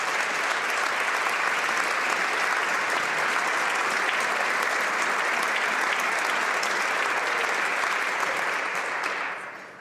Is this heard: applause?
yes